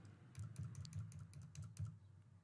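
A mobile number being typed on a computer keyboard, a short run of soft, quiet keystrokes over a low hum with no talking.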